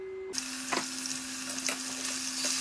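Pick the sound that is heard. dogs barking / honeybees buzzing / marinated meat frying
marinated meat frying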